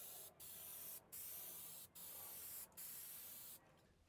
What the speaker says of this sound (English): And then I'm using this spray adhesive.